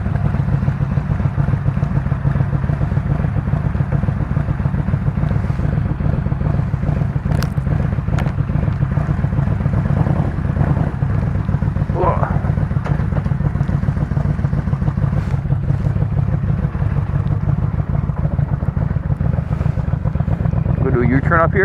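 A motorcycle engine hums steadily while riding with a passenger on the back, a loud, continuous low drone mixed with wind rush, and a rider talks over it throughout.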